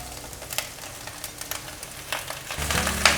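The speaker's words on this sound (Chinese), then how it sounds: "快速的翻炒，大约略炒一下" Shredded cabbage and carrot stir-fried in oil in a wok, with wheat gluten added: a steady close sizzle with intermittent sharp scraping and tossing clatter, no talking.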